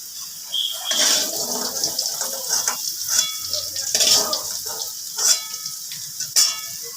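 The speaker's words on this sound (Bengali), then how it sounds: "আলুগুলো ভাজা হয়ে গেছে, এবার এগুলোকে আমি তুলে নিচ্ছি।" Potatoes frying in hot oil in a kadai give a steady crackling sizzle, with scraping and clinks as they are lifted out of the pan, close and fairly loud.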